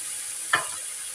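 Boiled rice is stirred into a frying pan with fried egg while cooking egg fried rice, giving one brief scraping, sizzling stir at mid-clip over a steady background hiss.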